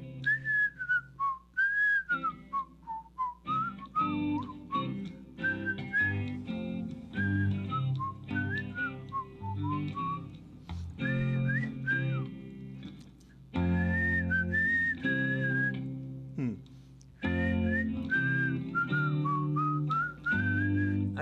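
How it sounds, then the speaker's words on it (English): A person whistles a wandering, melodic tune close to the mic, with short pauses between phrases and a low background hum underneath. "I can't whistle very well, I guess."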